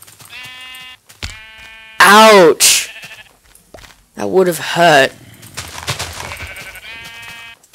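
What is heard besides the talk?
sheep bleating in the Minecraft video game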